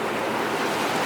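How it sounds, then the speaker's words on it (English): Water flows under the basement floor of an old mill, giving a steady, even rushing wash like surf. It stays at the same level throughout, fairly close, with no talk. "underneath the floor here in the basement, the water does flow"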